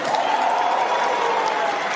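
A crowd at a local town party claps in steady, dense applause, loud and unbroken for the whole moment.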